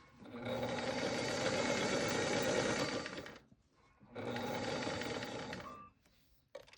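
A sewing machine stitches a blouse seam in two steady runs: a long burst of fast, even whirring, a brief pause, then a second shorter run for the back stitch, close and clear with no talking.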